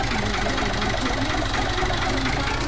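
A tractor engine idles in Farming Simulator 19, a steady mid-pitched knocking rumble that runs continuously and evenly throughout, with no talking over it.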